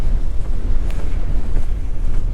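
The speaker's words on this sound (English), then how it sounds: "The wind's really picked up." Strong wind on an exposed hill during a cold winter walk in Weardale, a loud continuous roar buffeting the microphone with no let-up and no talk.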